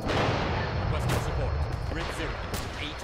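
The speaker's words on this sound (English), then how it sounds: "You can just hear those mortars dropping." Mortar shells land in a dense, rumbling barrage in the Arma 3 video game, dropping in groups of three with low, booming impacts that run together under a constant roar of distant fire.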